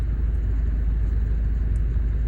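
A Mazda Skyactiv car with a P0488 fault code idles with a steady low engine rumble, continuous and close, with no voices.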